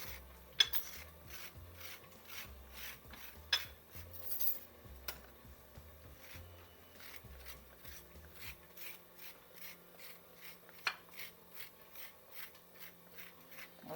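Snake gourd skin is scraped gently by hand, giving repeated soft, rhythmic rasping strokes, close and fairly quiet, with no talking.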